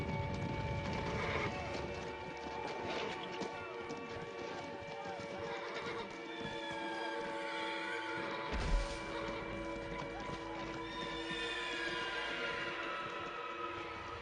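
A herd of untamed horses bound for the First World War whinnies and neighs again and again over steady clip-clopping hooves, with a brief thud partway through and a voice speaking over the scene.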